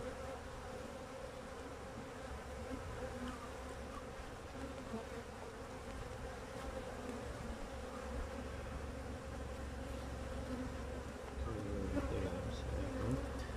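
Honey bees swarm and buzz steadily around an opened beehive during a beekeeping inspection, a dense continuous drone that stays close and fairly even, swelling slightly near the end, with no talking.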